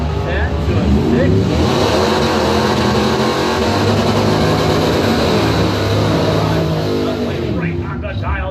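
Drag racing cars at a strip roaring at full throttle, a loud sustained engine howl close by that holds steady across the run and fades slightly at the end, with a voice talking over it.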